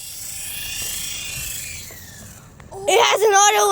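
A remote-control toy helicopter whirs with a high, steady rotor and motor whine that drifts in pitch and fades out, after which a person starts talking nearby.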